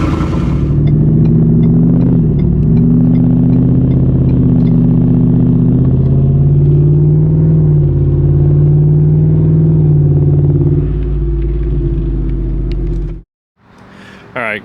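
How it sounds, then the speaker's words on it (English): Loud, throaty revs from a straight-piped 2023 Ford F-150 5.0 V8 with muffler and resonator removed, rising and falling in a few close pulls before the engine cuts off abruptly near the end. "a muffler and a resonator delete on my 2023 F-150 with the 5-liter V8"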